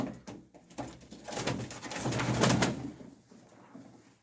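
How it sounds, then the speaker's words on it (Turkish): Domestic pigeons coo softly in a loft, their murmuring calls rising and falling in a busy, somewhat distant chorus with light rustling and no voices. "Güzel kuşlar"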